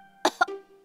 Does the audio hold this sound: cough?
yes